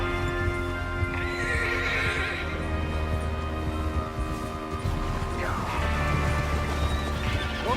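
Horses in the video game Red Dead Redemption 2 whinny loudly twice, with a quick rhythm of hooves clip-clopping underneath and a low background rumble throughout.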